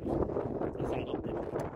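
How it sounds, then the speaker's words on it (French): Heavy wind buffets the microphone in a constant low roar, rumbling and gusting throughout with no clear voices. "Il y a un vent de gueux"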